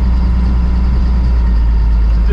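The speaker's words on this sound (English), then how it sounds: "so I know this truck is loud and noisy." A loud, noisy truck engine drones steadily while driving near the entrance of Bighorn Canyon National Recreation Area in Wyoming in winter. The deep, continuous rumble fills the whole clip close to the microphone.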